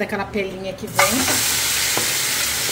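Crumbled Tuscan sausage meat, taken out of its casing, starts frying in a pan with a sudden loud sizzle that holds steady, after someone talks over quieter kitchen sounds.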